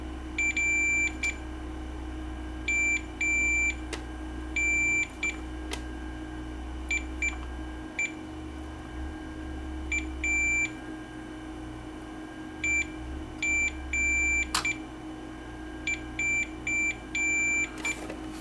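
A multimeter's continuity tester beeps as probes touch the rotary transformer pins of a Panasonic PV4760 VHS VCR, giving short, repeated high-pitched tones in irregular clusters over a steady low hum.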